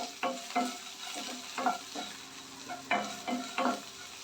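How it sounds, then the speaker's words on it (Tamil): Musumusukkai leaves being sautéed in a pan: a soft frying sizzle runs beneath repeated rhythmic spoon strokes scraping and tapping the metal, close and fairly quiet, with no voices. "கொஞ்சம் நல்லா வதக்கி எடுத்துக்கோங்க."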